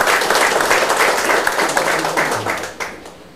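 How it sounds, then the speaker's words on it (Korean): Audience at a political party members' convention clapping in a hall, a lively burst of applause that gradually thins and fades toward the end, with a few sharper individual claps standing out. "큰 박수 부탁드리겠습니다."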